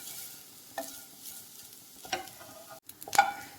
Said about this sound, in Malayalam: ആ എണ്ണയിൽ തന്നെ നമുക്ക് ഈ നാളികേരം കൂടി നല്ല പോലെ വറുത്ത് കോരാം